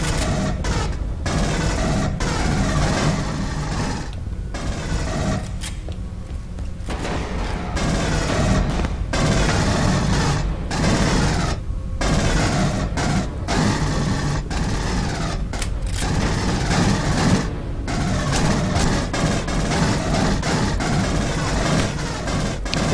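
Sustained rapid gunfire from a smart gun in the sci-fi shooter game Aliens Colonial Marines, loud and continuous with brief gaps between bursts.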